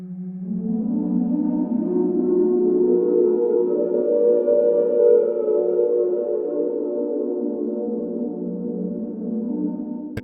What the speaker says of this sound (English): we're going to check out Enigmatic, which you might recognize from the Great Deku Tree